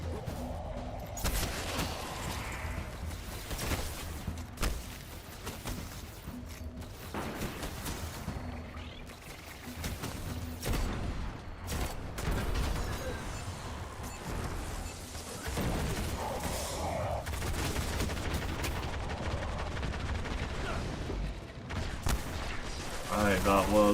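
Machine gun fire and explosions in the Destiny shooter game, rapid bursts and crashes churning throughout while someone talks over the combat.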